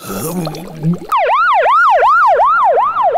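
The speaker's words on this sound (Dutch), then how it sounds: "Bel een ambulance, nu!" A wailing ambulance siren rises and falls in steady sweeps, loud and close, starting abruptly after a brief muffled moment.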